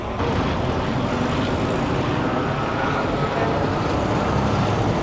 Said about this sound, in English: Oh, helicopter.